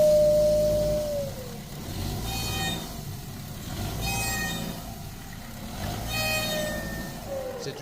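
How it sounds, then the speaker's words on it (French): A car gives a rising and falling owl-like hooting whine as it accelerates, several tonal swells riding over a steady engine rumble, fairly close and without voices. "Le client signale qu'en accélérant, sa voiture fait un bruit de hibou."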